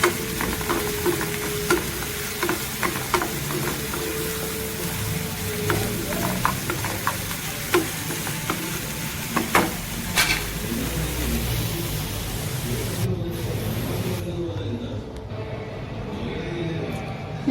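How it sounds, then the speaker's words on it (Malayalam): Sliced onions and shallots sautéing in hot oil in a pan, a steady sizzle with frequent clicks of a spatula stirring, continuing throughout with the frying quieting near the end. "ഉള്ളിയൊക്കെ ഇട്ട് വഴറ്റി"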